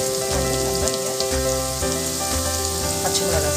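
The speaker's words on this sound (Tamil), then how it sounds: "வெங்காயம் இன்னும் கொஞ்சம் வதங்கட்டும்." Chopped onions soften in hot oil for a vermicelli chicken biryani, giving a steady, close sizzle with light crackle that runs continuously beneath a tonal musical bed.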